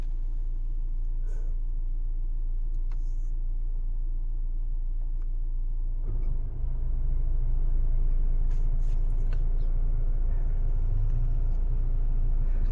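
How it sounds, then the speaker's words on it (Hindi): A Mahindra Thar Roxx MX3 petrol automatic idles just after starting, its low, steady engine rumble heard from inside the cabin. The hum thickens partway through as the air conditioning comes on, with no talk. "ये गाड़ी मैंने अभी स्टार्ट कर दिया है।"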